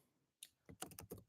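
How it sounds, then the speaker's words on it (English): Computer keyboard typing: a single soft click followed by a quick, uneven burst of keystrokes, close and fairly quiet with no talking. "So I'm going to type it out and then I'll read it again."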